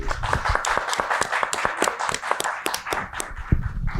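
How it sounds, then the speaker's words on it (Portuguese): An audience claps in a room at a talk event, a steady patter of moderately loud, close handclaps lasting several seconds with no voices over it. "Eu pediria uma salva de palmas para ela."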